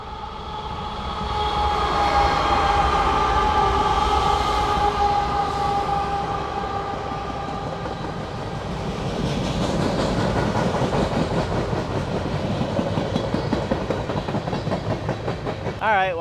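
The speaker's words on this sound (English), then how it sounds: "I hear a train coming." A train rumbles past steadily, a loud continuous roar with rhythmic clattering of wheels on track building toward the end.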